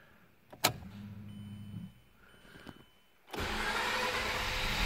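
A cold Mazda RX8 rotary engine with a new starter and Optima battery is cranked: a couple of brief clicks and whirs, then the engine catches and settles into a loud, steady idle running close by.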